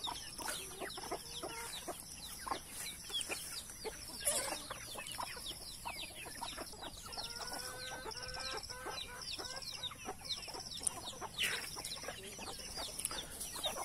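Free-range backyard chickens cluck and chatter softly in a morning yard, with busy overlapping calls and a few louder squawks throughout, and no voices heard.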